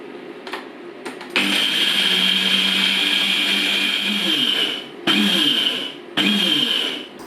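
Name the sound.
blender pulverising matzo crackers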